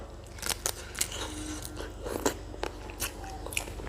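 Crisp, close-up bites and crunchy chewing of spicy blue crab salad with fermented fish sauce, sharp cracking snaps at irregular intervals over a quiet background, with no talking.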